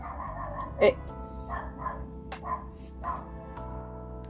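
A dog barks and yips at a neighbor's trash can being wheeled in, a few sharp barks with whimpering in between, fairly close and loud against a quiet indoor room.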